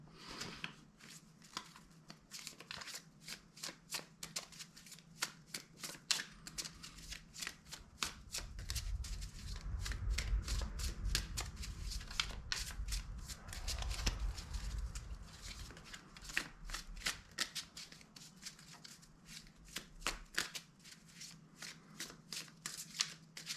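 Tarot cards are shuffled by hand in a long, steady stream of soft flicking, riffling clicks, close up and continuous, with a low rumble swelling in the background midway.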